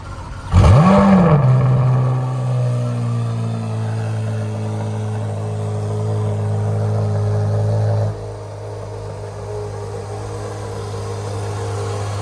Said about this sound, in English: this is going to start up this Z06 for us